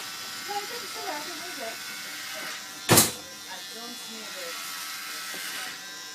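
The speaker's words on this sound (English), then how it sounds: "And the shaving begins." An electric razor buzzes during an actor's makeup session as hair is shaved off, a steady faint hum under excited chatter with one loud sudden burst midway.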